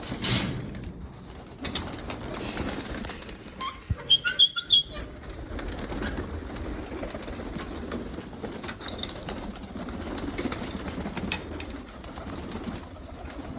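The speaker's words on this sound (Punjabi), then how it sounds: "ਗਏ ਵੀ ਸਾਰੇ ਕਬੂਤਰ ਬਾਹਰ" Young pigeons leaving their loft together for the first time, a quick cluster of loud wing claps and flapping near the middle, with soft cooing and outdoor background before and after.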